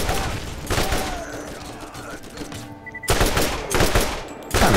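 Rapid automatic gunfire from a video game rattles in dense, sustained bursts, loud and close, with a brief lull before a second heavy volley and another burst starting at the end.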